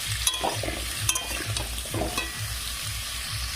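Pumpkin pieces fry loudly in hot oil with a constant sizzle, broken by a few sharp clinks and scrapes of stirring, close and without speech.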